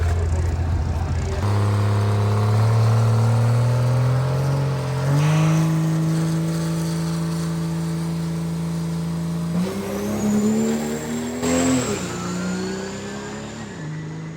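Diesel truck making a drag racing pass, loud engine roaring and climbing in pitch through several gear changes, close and powerful with a rising whistle near the end.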